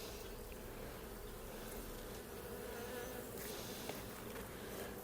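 Honeybees from a calm, nectar-gathering colony hum steadily at a freshly split hive, a dense continuous buzz with no talking.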